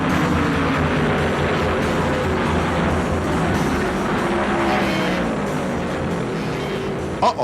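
Stock cars roar around the track at the 1972 Motor State 400, including Bobby Isaac's Dodge 71 and David Pearson, a loud continuous engine drone from many cars at speed.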